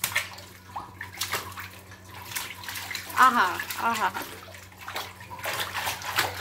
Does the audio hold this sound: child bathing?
yes